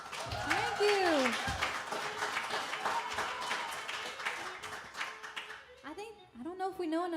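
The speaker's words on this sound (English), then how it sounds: "how about great big Mountain View round of applause for the Parker Unit?" Applause for a live band at a club rings out beneath a voice, with scattered clapping under the talk and a guitar-like tone sliding in near the end.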